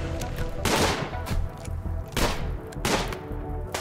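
Repeated gunfire bursts in the video game RimWorld, loud volleys arriving about every 1.5 seconds, with a sharp crackling shot and a faint voice underneath.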